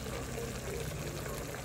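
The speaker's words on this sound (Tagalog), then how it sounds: "Ngayon, dadagdagan na ng tubig kasi nang nagisa na siya" Water pours steadily into a pot of native chicken sautéed with onion, garlic, pepper and salt, a continuous close gushing splash with no voices.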